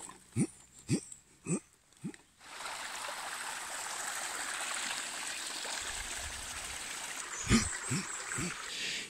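A stream runs beside a forest path, its steady rushing water filling most of the stretch at moderate level, with a few short grunting animal sounds before the flow swells in and several more near the end.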